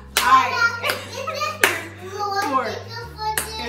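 Several sharp hand claps ring out at roughly even intervals, loud and close, mixed with children's voices and chatter between the claps.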